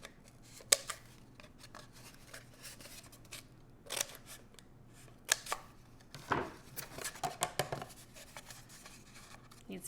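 Scissors snip and cut into cardboard for a DIY phone speaker craft, with a pen-made puncture as the starting point. Close, irregular crunching cuts and snips come in bursts, louder toward the end, with no talking.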